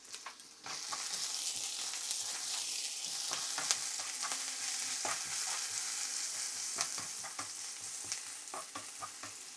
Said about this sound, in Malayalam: നമുക്ക് 2 സ്റ്റെപ്പായിട്ട് ഫ്രൈ ചെയ്തെടുക്കാം സവോള